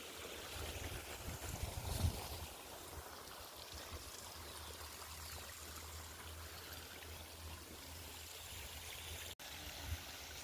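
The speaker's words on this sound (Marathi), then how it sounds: "तर हे पहा कॉकला पाणी चालू झालेलं आहे" Irrigation water flows through furrows in a cotton field during hot, dry weather, a steady continuous rushing and trickling wash with a low rumble, fairly close and unbroken throughout.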